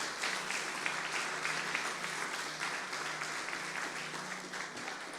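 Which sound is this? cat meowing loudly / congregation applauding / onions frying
congregation applauding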